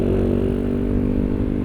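A stock Honda XRM125 motorcycle engine runs steadily at an endurance race event, a continuous close, rough drone with faint clatter and no talking.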